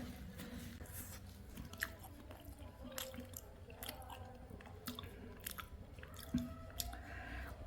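Close, quiet chewing and soft mouth sounds of someone eating rice mixed with sardine curry and pulissery, irregular wet bites with no talking.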